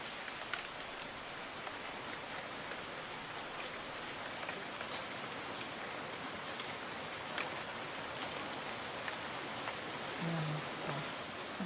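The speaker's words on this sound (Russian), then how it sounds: "Я же говорил, дождь." Steady rain falling and pattering on surfaces, a soft continuous hiss with scattered drops throughout, fairly quiet and without speech.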